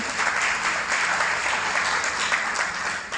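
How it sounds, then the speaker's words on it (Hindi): An audience at an annual dealer meet in a hotel breaks into loud, sustained applause, a dense wash of many hands clapping continuously with no voices over it. "एक बार जोरदार तालियां इनके लिए"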